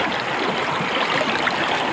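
River water in a village flows steadily, a dense broadband rushing and gurgling heard close and fairly loud, with no voices.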